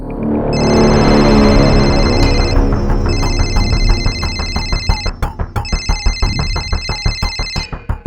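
Inside a house, a phone left behind rings loudly and close, its electronic ringtone repeating in three bursts over a thumping rhythmic beat, with no voices heard.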